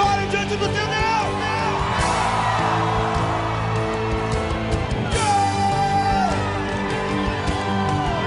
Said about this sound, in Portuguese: É um grito de vitória diante do teu Deus.